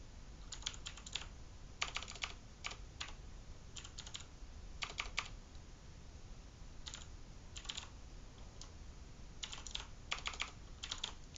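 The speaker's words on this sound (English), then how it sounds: "you type in test package name" Typing on a computer keyboard while setting up Android Studio, faint quick clusters of key clicks in short bursts separated by pauses over a low background hiss.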